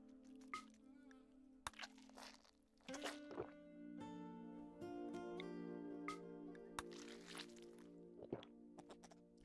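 A vampire feeding in the space-colony game RimWorld makes a few short, wet gulping swallows that stand out over a steady tonal music bed.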